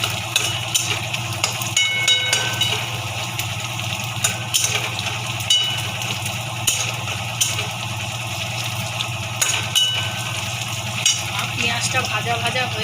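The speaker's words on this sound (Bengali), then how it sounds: "পেঁয়াজটা ভাজা ভাজা হয়ে এসছে।" Onions frying in a pan for a banana-stem dal, giving a steady, loud sizzle with intermittent stirring scrapes throughout and no speech.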